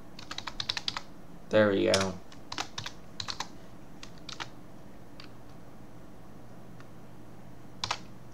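Computer keyboard typing comes in scattered clusters of crisp keystrokes, broken by pauses, with a short spoken remark near the start.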